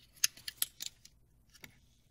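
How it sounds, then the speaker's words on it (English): Cabin air filter on a Chrysler 200 being pressed back into its housing, a close burst of sharp plastic clicks and snaps followed by one more click after a short pause, with no talking. "Should just click back in there."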